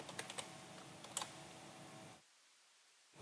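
Close, fairly quiet keyboard typing with a few sharper key clicks for about two seconds, then near silence; it comes while entering a command in Rhino Grasshopper modeling software.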